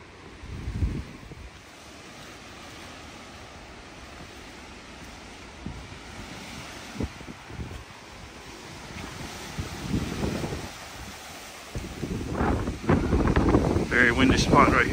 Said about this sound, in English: Windy spot right here.